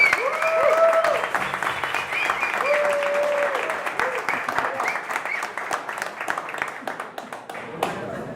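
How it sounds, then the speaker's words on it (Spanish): Audience applause welcoming a guest at a Spanish-language talk event, a dense, steady burst of clapping that holds loud throughout and gradually thins, with some voices and cheers mixed in. "Démosle un fuerte aplauso a Esteban."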